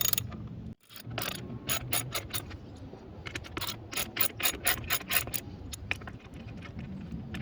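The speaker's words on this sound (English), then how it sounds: "we take a ratchet and a 10mm socket, and then we start untightening the screws that are holding down the seat" A ratchet fitted with a 10mm socket loosens the screws holding down a seat, giving quick bursts of close, crisp clicking in an uneven rhythm with short pauses between strokes.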